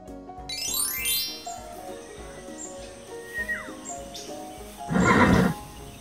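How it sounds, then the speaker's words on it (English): A horse whinnies loudly at close range in one strong burst near the end, with quieter background sounds before it. "Oh, wow! It's a horse!"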